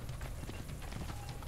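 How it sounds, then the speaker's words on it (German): Horse hooves galloping in the video game Assassin's Creed Brotherhood, a rapid steady clip-clop rhythm filling the moment, loud and close with no talk over it. "Pferdchen."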